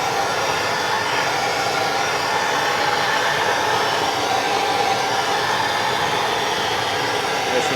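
A heat gun blows a steady, loud, unbroken roar while warming a painted car part near a brake line, on a Toyota E153 swap into a Mazda BG Ford Escort GT.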